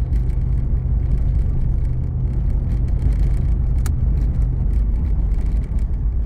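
Cabin rumble and rattles inside a 1985 Chevrolet Camaro IROC-Z driving on a rough road, a steady low drone with a sharp clink near the end and no talking.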